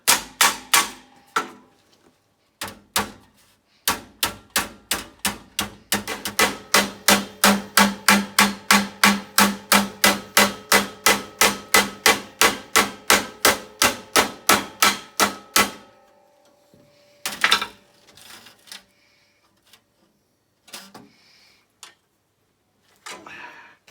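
A hammer forms a sheet-metal lip on a Toyota Corolla rocker panel with basic tools, sharp metallic blows in a fast, regular run of about thirty strikes, then a few scattered taps and handling noise.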